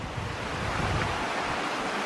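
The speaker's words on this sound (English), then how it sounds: "All this water falling down feels like we're at a rainforest." Water falling steadily along a forest hiking trail, a broad continuous rushing wash that stays loud and even throughout.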